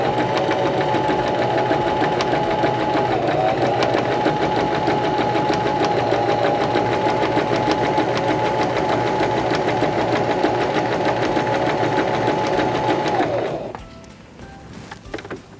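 A Singer Start 1304 sewing machine stitches zigzag across fabric with a steady, loud, close mechanical whir that runs unbroken for about thirteen seconds before the motor stops abruptly.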